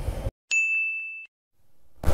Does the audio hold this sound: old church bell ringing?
yes